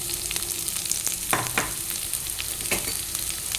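Garlic, curry leaves and onion frying in a pan, a soft continuous sizzle broken by a few sharp spatula scrapes and knocks against the pan, with no talking.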